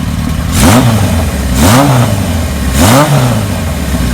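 A 1978 Kawasaki KZ1000 LTD motorcycle fitted with a Kirker header revs up three times from a steady idle, each blip a loud throaty rise and fall, recorded up close.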